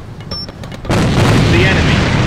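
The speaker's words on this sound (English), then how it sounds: "Charge set! Fire in the hole!" A demolition charge detonates in a video game: a quiet, faintly ticking lead-in gives way to a single sudden heavy boom, followed by a loud sustained rumble and debris wash.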